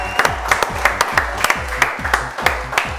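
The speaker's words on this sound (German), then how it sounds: "Großer Applaus." At a Siegerehrung winner's ceremony after a round of Ekel Pong, a few people clap in brisk, sharp, evenly spaced claps, close and moderately loud, without any voices.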